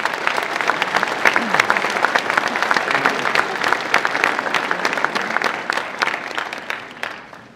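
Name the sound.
audience applause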